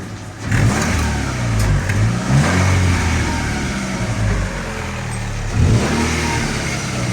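A car engine revs hard as the gas pedal is pressed, a loud close rising roar that holds, dips, then surges again near the end, with no talking.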